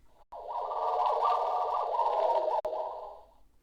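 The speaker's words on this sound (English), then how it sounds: "Droid pass by." A Star Wars droid passes by with a buzzing, warbling electronic hum that holds steady for about three seconds, then fades. It is heard alone at moderate volume.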